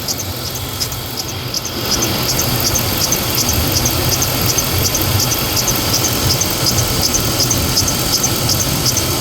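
A high, rhythmic squeak from a slipping drive belt repeats steadily over the loud idling engine of a 2003 Chevrolet Tahoe, with no one speaking.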